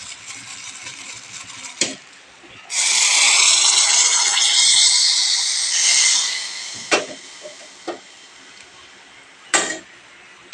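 Steam hisses from a pot of medicinal leaves boiling on the stove, a steady broadband rush lasting a few seconds, bracketed by quieter room sound and a handful of sharp clicks and knocks.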